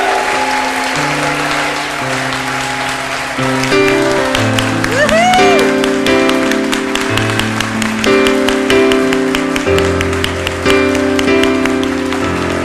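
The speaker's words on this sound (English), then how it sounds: "one more big round of applause for our new members" A congregation at a Buddhist-themed service gives new members a loud, sustained round of applause, dense clapping that swells partway through, with a cheer and voices mixed in over background music tones.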